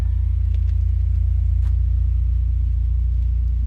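A Ford BA XR6 engine with its exhaust partly removed idles loudly with a deep, throbbing rumble and a fast steady pulse, running continuously with no voices.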